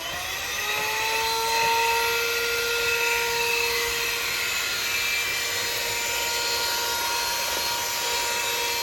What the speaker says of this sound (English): I really love this portable vacuum cleaner